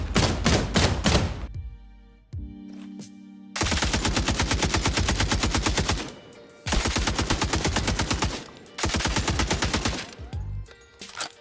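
Automatic weapon fire from the XDefiant video game rattles in long rapid bursts separated by short pauses, each volley loud, dry and evenly paced, heard alone without talk.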